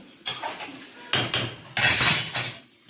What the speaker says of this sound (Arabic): الترزيع والتخبيط ده كل يوم نلحق نفسنا بالعافيه